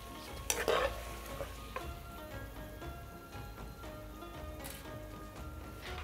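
Food sizzling and being stirred briskly in a hot pan, with a clatter of utensils near the start.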